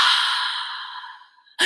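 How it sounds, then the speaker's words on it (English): A single long, breathy exhale through the mouth during a relaxation breathing exercise, loud and close, fading out before a brief intake of breath at the end. "You're going to breathe in through your nose and out through your mouth"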